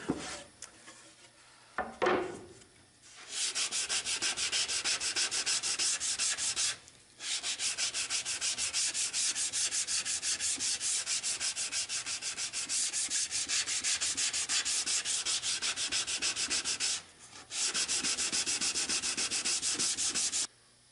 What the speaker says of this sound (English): Once you've sanded out your lid, your end grain, your faces, your ends